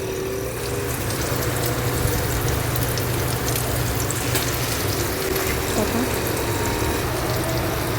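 Paneer pakora fritters frying in hot oil, a steady, dense sizzling hiss that runs unbroken throughout, with a faint background hum and no speech.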